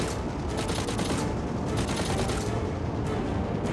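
Dense, continuous gunfire from an airship battle in the game Lost Skies, shooting down enemy craft, with rapid overlapping shots and booms at steady loudness throughout.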